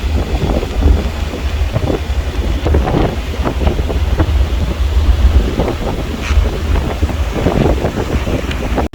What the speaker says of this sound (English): A bit noisy and windy.